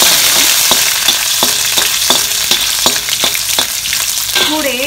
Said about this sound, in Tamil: போட்டு நல்லா ஃப்ரை பண்ணலாம்.